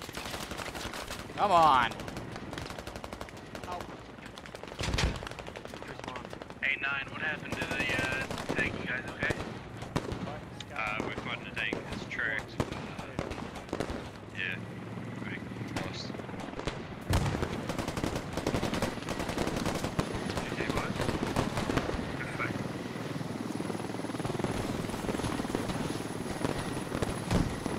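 Video game gunfire in a squad shooter: bursts of automatic fire and single shots, some close and loud, others distant, over a steady helicopter rotor drone, with players talking and shouting throughout.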